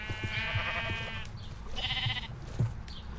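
Sheep bleating in the video game Minecraft, two separate wavering bleats close by, each about half a second long, over a soft background of game sounds and light tapping.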